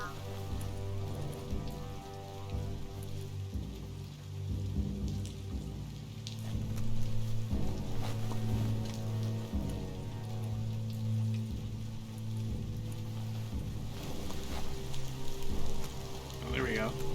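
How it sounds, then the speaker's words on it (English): Steady hiss of rain falling in the video game Biomutant, a continuous patter that runs under droning background music and occasional soft voice, holding an even level throughout. "This rain should fall through the ceiling."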